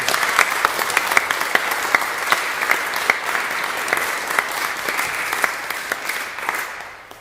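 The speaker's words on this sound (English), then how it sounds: "a wonderful, raucous, Celtic round of applause," A lecture-session audience gives a raucous, enthusiastic round of applause for a speaker named Tony. Dense clapping holds steady for about seven seconds, then thins out at the end, with no talking over it.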